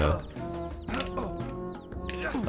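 Chickens clucking in the GameCube game Shrek Extra Large, short repeated clucks over steady game music.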